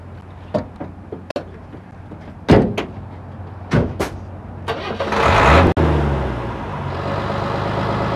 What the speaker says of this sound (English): lock the door shut.